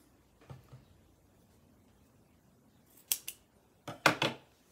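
Scissors snip through a folded fabric handle strap, one faint early cut and then several sharp close snips in quick clusters near the end, with no voices.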